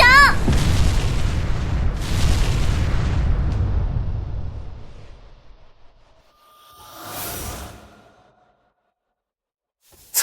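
A multicoloured cannon blast in an action anime battle: a loud booming explosion that rolls and fades over several seconds, followed by a quieter whooshing burst and a sharp final crack.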